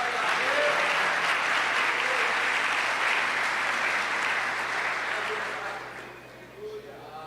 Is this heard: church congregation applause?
yes